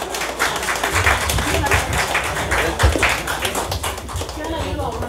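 Guests clap steadily at a seventieth birthday celebration, a dense and fairly loud patter that runs the whole stretch with voices mixed in.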